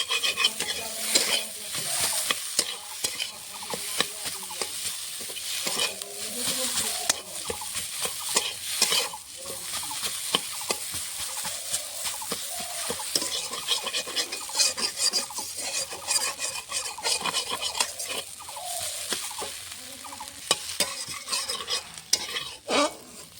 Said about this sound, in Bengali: সামান্য একটু কাঁচা সর্ষের তেল দিয়ে দেবো করে নামিয়ে